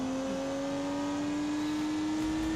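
A turbocharged 3-litre straight-six car engine in The Grand Tour video game holds a loud, steady high-pitched drone close up, the pitch creeping slowly upward; no talking.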